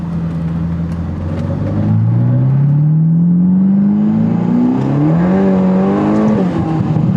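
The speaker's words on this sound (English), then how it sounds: "this exhaust sounds amazing. There's so much popping and crackling and all that." Ferrari engine revving loudly and close by, its rising tone climbing steadily through a gear before easing off, with a rough crackling edge and short pops from the exhaust.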